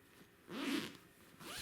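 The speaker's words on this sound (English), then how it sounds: "these cushions have the added bonus of a zip, which makes the covers easy to remove and wash." A zip pulled along a soft cushion cover, one quick zipping stroke near and fairly quiet, followed by a fainter second pull.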